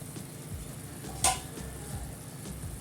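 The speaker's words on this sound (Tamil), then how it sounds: "நல்லா கொதிக்குது." A thick paneer gravy with beans bubbles and simmers in a pan with soft, irregular pops and a brief metallic clink, close and moderately quiet.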